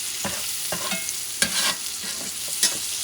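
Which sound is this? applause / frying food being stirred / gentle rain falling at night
frying food being stirred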